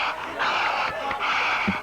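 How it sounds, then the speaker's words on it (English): A stadium crowd cheering after a goal, a dense, sustained roar of many voices that swells and stays loud throughout the moment. "Listen to the crowd!"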